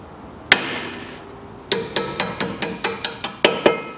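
A hammer taps a brake part into place on a 2016 Chevrolet Niva 4x4 during a front brake pad replacement: one sharp metallic strike, a pause, then about nine quick, evenly spaced taps, close and clear.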